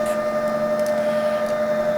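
A Liquajuice Taurus slow juicer pressing a piece of orange gives off a steady mechanical hum with a strong tonal whine, running continuously and close by with faint clicks on top and no voices.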